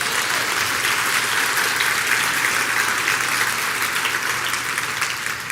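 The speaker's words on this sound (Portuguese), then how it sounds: "dá uma salva de palmas aí" Church congregation giving a round of applause, a steady dense clapping from many hands sustained evenly throughout, loud and close with no talk over it.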